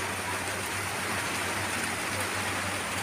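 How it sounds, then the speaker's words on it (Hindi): Steady rain falls outdoors near mango trees, a continuous close hiss of drops filling the whole stretch with no one speaking. "देखिए आ गई है बारिश"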